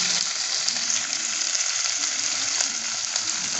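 Chopped onion fries in a hot pan, filling the sound with a loud, dense, continuous sizzle and crackle heard close by, with faint occasional scrapes and no talking.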